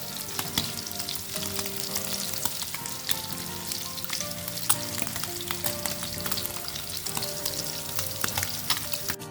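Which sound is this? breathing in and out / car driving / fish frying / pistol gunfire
fish frying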